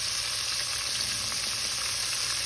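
Loud, steady sizzling and crackling of jackfruit frying in a hot skillet, continuous throughout with no pauses.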